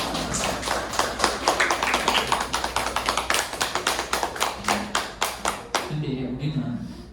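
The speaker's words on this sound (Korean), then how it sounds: "박수 한번 치겠습니다" Dense, steady hand clapping from a seminar audience fills about six seconds, then stops as a voice begins to speak at the end.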